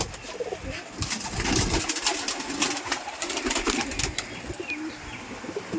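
Giribaz pigeons at a Rajshahi pigeon farm cooing in soft, overlapping calls amid steady ambient noise, with a few brief flutters and no clear talk.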